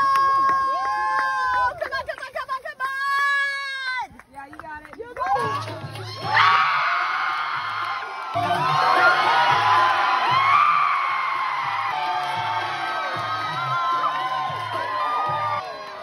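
A crowd of campers at a camp erupts into loud yelling, whooping and cheering that carries on energetically, after a voice leads a sung call at the start.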